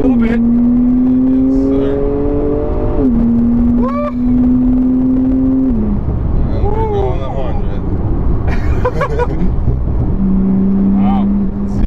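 Porsche 991 911 Turbo S accelerating hard in first gear with tires briefly breaking traction, a loud rising engine note climbing in steps with gear-like pitch sweeps, heard from inside the car over steady road roar.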